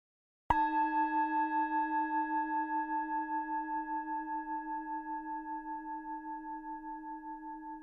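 A meditation gong is struck once and then rings on alone, its sustained metallic tone slowly fading with a gentle wavering pulse across several seconds in a quiet space.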